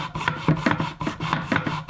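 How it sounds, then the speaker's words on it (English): A plastic smallpipe reed is rubbed back and forth on abrasive, making a rhythmic rasping scrape of about eight even strokes, close and steady, with no talking. "now the job is sanding"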